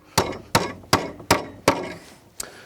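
Stiletto titanium hammer pounding a nail into wood on a siding strap, five evenly spaced, loud, close-up whacks followed by one lighter tap after a short gap.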